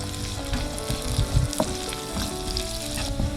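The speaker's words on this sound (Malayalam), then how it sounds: "ചെറുതായിട്ട് വഴന്നാൽ മതിയേ" Garlic, green chili, onion and capsicum sauté in hot oil with a steady, close sizzle and occasional stirring scrapes, with no talking.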